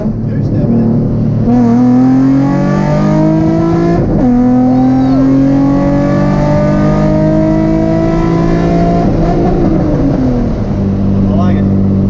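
A car engine fitted with an NWP 75mm big bore throttle body revs hard and close, its pitch climbing in long sweeps, dropping briefly, then rising again before settling.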